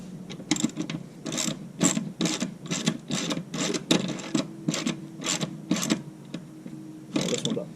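A ratchet wrench backs out 12 mm bolts on a Subaru during a pitch stop mount install, clicking in quick repeated bursts with short pauses between strokes, close and clear with no talk over it.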